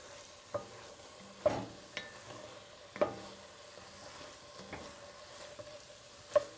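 Soft sizzling of meat and spices frying slowly over low heat in a pot for an Ethiopian potato and meat red stew, broken by occasional scrapes and taps of a stirring spoon.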